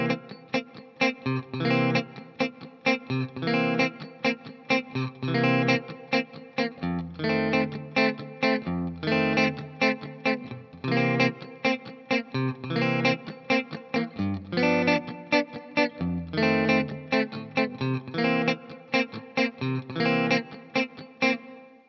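Guitar plays a 12-bar blues groove with a Latin feel, rhythmic strummed chords with a driving pulse, steady and fairly loud, with no voices.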